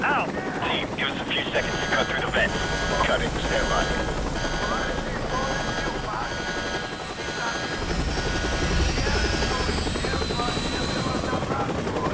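A helicopter in the shooter game Call of Duty: Modern Warfare Remastered throbs steadily with rotor chop under radio chatter, mixed with bursts of gunfire in a military battle scene.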